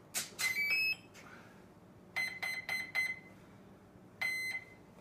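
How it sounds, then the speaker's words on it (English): A chirpy electronic beep sequence from the speed controller of a Dynam P-47D model plane, then four short evenly spaced beeps marking a 4-cell LiPo and a final ready beep, clear and close in a quiet room. "beeps were to let you know the 4 cell, and the last beep lets you know it's ready"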